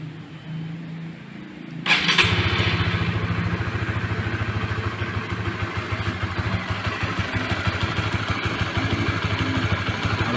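A fuel-injected motorcycle engine cranks and catches after a quiet stretch, then settles into a steady, close idle with a fine rhythmic clatter that runs loud and even to the end.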